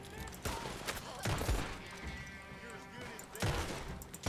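Gunfire in the online western shooter Red Dead Online: several sharp shots and bursts crack at intervals amid game noise, with someone talking quietly underneath.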